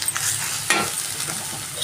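Egg and amaranth leaves roast slowly in a pan on low heat, giving a steady close sizzle with one brief sharp scrape of stirring partway through.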